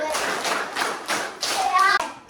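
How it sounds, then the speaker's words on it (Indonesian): Children clap a steady counting rhythm in a school outreach session, sharp claps landing about twice a second with young voices chanting along over the beat. "Tepuk satu, tepuk dua, tepuk tiga, tepuk empat"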